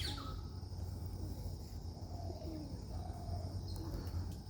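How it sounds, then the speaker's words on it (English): Birds call softly in the grounds of a Buddhist meditation center in Sri Lanka, faint scattered chirps and coos over a steady outdoor hush. "I don't know if you guys hear the birds."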